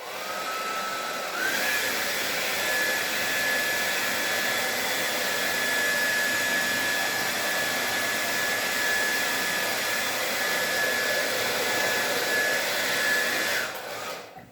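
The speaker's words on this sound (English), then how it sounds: "you can use your own air dryer" A hair dryer blows steadily over a ceramic orb sculpture, a continuous whining hum with airy rush that holds evenly for about twelve seconds before cutting off.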